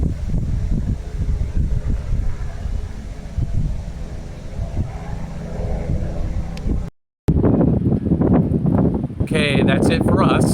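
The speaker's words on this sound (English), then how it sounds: "It is really windy out here" Strong wind blows outdoors, buffeting the microphone with a heavy low rumble and gusts, cutting out briefly and then returning, with talk heard under the noise.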